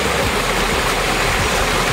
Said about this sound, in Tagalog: malakas ang agos ng tubig guys